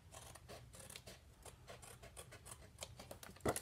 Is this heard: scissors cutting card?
yes